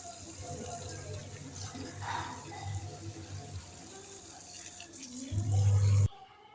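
Running water pours steadily from a tap for several seconds, filling plant pots, with a louder gush near the end before it cuts off.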